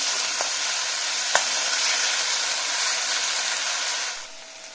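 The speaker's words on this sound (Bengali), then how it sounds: "ভিডিওটা কাটি করতে গিয়ে দেখো আমি একটু নেড়ে নিচ্ছি" Fish curry made with small mourala fish sizzles steadily in a wok as it is stirred, giving a loud continuous frying hiss with a couple of sharp scrape clicks from the spoon before the sound tapers off at the end.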